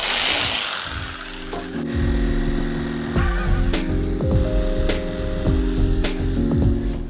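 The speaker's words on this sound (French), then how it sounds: "Coucou, scie sauteuse!" A jigsaw cuts through a wood plank up close, its motor whining in steady bursts with short pauses and rattles between strokes.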